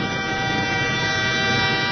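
A train horn sounds in one sustained, loud, steady blast at close range, heard alone as a radio drama effect.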